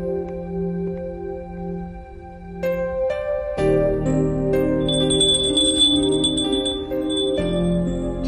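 A small indoor summoning bell rings repeatedly with clear, bright tinkling tones, close and distinct over a low, sustained background hum.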